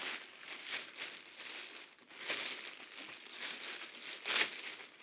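Plastic product packaging being peeled off by hand, close crinkling and crackling bursts repeating unevenly for several seconds, moderately quiet with no talk.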